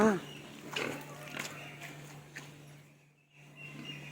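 A pig grunts and snorts close by in short irregular bursts, quiet and fading, with a brief squeal at the start and a steady background hum.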